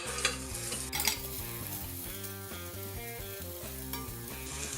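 Chopped vegetables frying in melted butter in a pan for chicken and mushroom soup, a steady crackling sizzle with occasional stirring scrapes, heard beneath background music.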